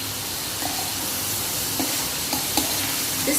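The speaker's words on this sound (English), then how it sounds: "This stir frying has to be done on high flame." Paneer cubes stir-fried in a pan over a high flame give a steady, close sizzle with a few soft scraping clicks of the spatula, and nobody speaks.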